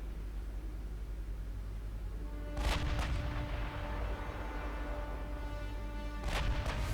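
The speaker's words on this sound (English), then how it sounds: "Let's make those last salvos count." Battleship gun salvos in the naval game Ultimate Admiral Dreadnoughts, two heavy booming volleys several seconds apart over a constant roaring sea and engine background, with no talking.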